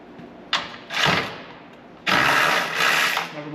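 A large Allen bolt being loosened on a Yamaha Phazer snowmobile, with a short metallic click followed by two bursts of ratcheting, grinding mechanical noise, close up.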